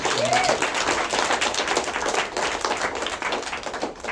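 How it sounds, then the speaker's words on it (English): A crowd applauding, steady dense clapping that holds for several seconds with no break, fairly close and full. "please give her a round of applause"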